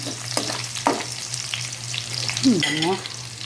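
Mixed vegetables for lumpia fry in a pan with a steady, close sizzle, broken by a few stirring scrapes and clinks.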